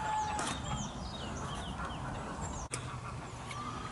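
Birds calling in a country park beside a campsite along the Nene, with faint chirps and short calls scattered over a steady outdoor background hum, and one sharp knock partway through.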